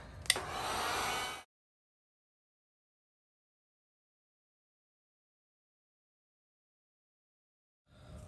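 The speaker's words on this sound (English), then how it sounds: "I'm just gonna heat gun one more time" A heat gun blows over freshly poured resin coasters with crackle-effect edges, a steady close airy rush lasting just over a second before cutting off into silence, with a brief return at the very end.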